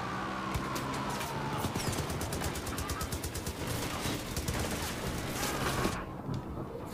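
Far Cry 5 gunfire striking the player in a vehicle fight, dense rapid automatic shots rattling over constant engine and explosion noise, loud throughout before easing at the end.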